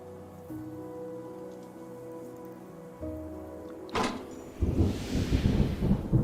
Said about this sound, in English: Rains begin. We have rain. It's raining.